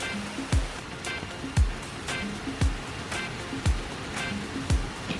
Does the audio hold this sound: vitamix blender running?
no